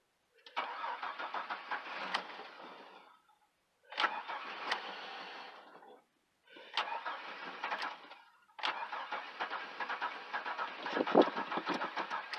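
An old, cheap car engine, fed starter fluid through the air intake, cranks and catches in four rough, close bursts separated by short silences, with a sharp pop near the end.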